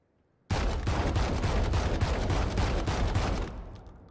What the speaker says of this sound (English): The Judge. This is a fully automatic shotgun.